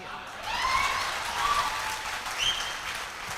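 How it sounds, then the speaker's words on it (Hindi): Audience applause at a motivational talk, a steady patter of clapping with a voice speaking over it, moderately faint. "ताली नहीं बजाएंगे तो चलेगा"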